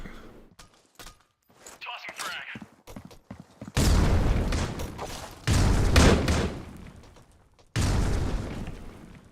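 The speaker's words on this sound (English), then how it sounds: "That's some shotguns coming out this time from Dino." Shotgun blasts in the competitive shooter Critical Ops during a tournament match, three loud broadband bursts each ringing out for a second or two, preceded by quieter clicks, footsteps and softer game sounds.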